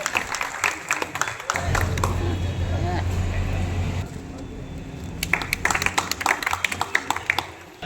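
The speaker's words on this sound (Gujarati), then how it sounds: "આપણે સૌ તાળીઓના ગગડાટથી ઉડાવી" An audience at a peace committee meeting at the Alka Talkies police post, held ahead of Eid and the procession, bursts into a dense, sustained round of applause, followed by scattered individual claps as voices talk nearby.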